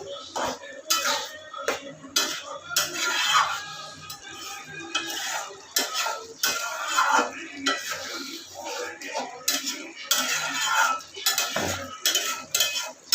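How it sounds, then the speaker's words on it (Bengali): A utensil stirs papaya chutney in a frying pan, scraping and clinking against the metal with a faint sizzle underneath, a busy run of irregular strokes heard up close with no voices. "একটু নাড়িয়ে দিচ্ছি।"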